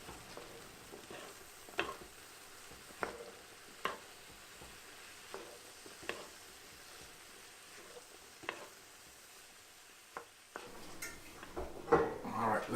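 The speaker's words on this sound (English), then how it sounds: "Once the sauce has begun to bubble and just started to cook, we're going to add the pasta back in and give it a good stir" Tomato and herb sauce simmers and sizzles in a pan while cooked pasta is stirred through it, with scattered scrapes and utensil knocks against the pan and a louder clatter near the end.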